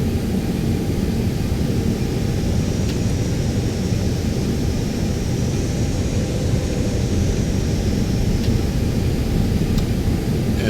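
Airliner taxiing to the end of an icy Alaska runway, heard from inside the cabin: a loud, constant engine rumble and broadband roar with a faint high whine above, steady throughout.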